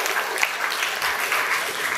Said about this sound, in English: Shall we give a big round of applause to Harini?